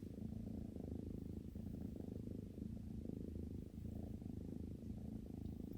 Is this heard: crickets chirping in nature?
no